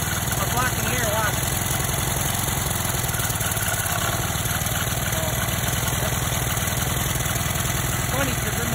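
A small backyard generator runs on biogas with a steady, dense mechanical chug at close range, holding an even level throughout, while voices talk faintly under the engine noise.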